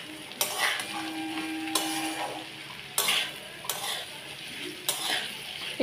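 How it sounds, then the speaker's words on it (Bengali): Okra, potatoes and green chillies sizzle in a pan, with a utensil scraping and tapping against the metal in sharp, repeated stirring strokes over the steady frying hiss. "তার সাথে আমি এই ভেন্ডিগুলো সব ঢেলে দিলাম। এইবার আমি এটাকে ভালো করে ভাজা ভাজা করে নেব।"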